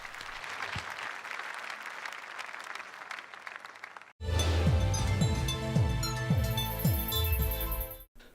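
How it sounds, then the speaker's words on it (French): A church congregation claps in a busy, moderately loud round of applause for roughly four seconds, then it cuts off sharply as loud music with sustained tones takes over. "Encore une fois, applaudissons pour Jésus-Christ"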